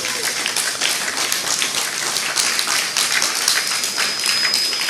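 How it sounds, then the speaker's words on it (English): Crowd at an eighth-grade graduation ceremony at Pohnpei SDA school applauding, a continuous crackling patter of many hands at moderate volume with no break. "Shall we give them also a big round of applause?"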